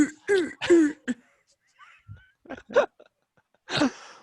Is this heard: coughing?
yes